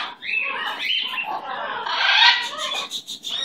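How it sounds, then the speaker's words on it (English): A pet bird chirps and squawks close by in a busy run of calls, and a person speaks softly nearby. "Such a beautiful bird."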